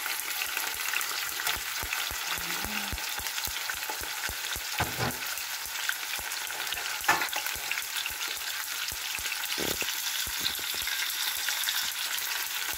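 Chicken frying in hot oil in a covered pan gives a dense, steady sizzle with scattered sharp pops and crackles throughout, loud and close, and no voices.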